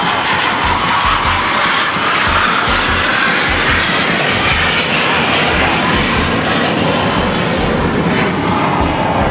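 Jet airliners at Los Angeles LAX airport, a loud, steady engine roar that fills the whole stretch without a break, with no talking over it.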